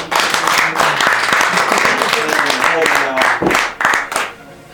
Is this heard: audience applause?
yes